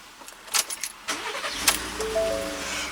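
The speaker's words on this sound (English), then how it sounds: "we'll shut the vehicle off. And when we start it back up, it will be on." A Ford F150 pickup engine starts back up: key and switch clicks, a quick cranking whir, then the engine catches and settles into a steady idle hum.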